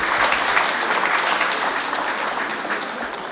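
Audience applause at a community event, dense steady clapping from a crowd, loud and continuous throughout with no voices over it.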